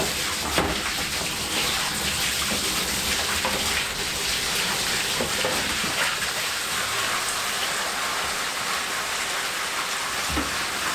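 A pump pushes water into an IBC tank on a ute, making a continuous, fairly even rushing splash that lasts the whole stretch.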